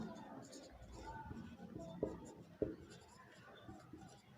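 A pen scratches across paper while a quadratic-equation math problem is worked out, a few brief strokes with two sharper marks, soft and close beneath a steady spoken explanation.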